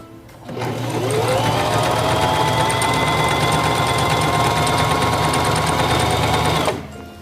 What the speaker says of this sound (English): lower the presser foot, and begin sewing